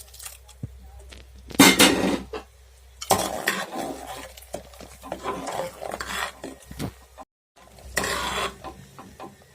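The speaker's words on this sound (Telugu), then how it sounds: "డ్రై ఫ్రూట్స్ వేసుకుని ఒకసారి బాగా కలుపుకొని ఒక 1 minute ఉడకనివ్వాలి." A spoon stirs fried dry fruits into a pot of boiling sheer khurma, giving a few separate bursts of scraping and clinking against the pot, fairly close, with quiet gaps between strokes.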